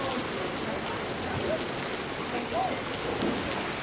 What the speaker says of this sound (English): it started raining a little later than we expected